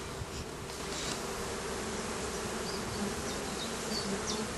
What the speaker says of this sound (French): Les abeilles sont à fond.